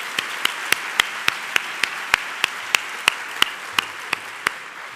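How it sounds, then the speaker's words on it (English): An audience at a university graduation convocation claps in a sustained round of applause, with many overlapping hands and a few sharp, distinct claps standing out at an irregular rhythm for the full stretch, no talking. "Please join me in a round of applause and appreciation for our alumni and their continued support."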